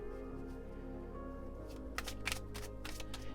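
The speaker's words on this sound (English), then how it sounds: "Pick a card while I'm shuffling here." Soft riffling of tarot cards being shuffled, faint at first and then a few sharper flutters toward the end, with no talking.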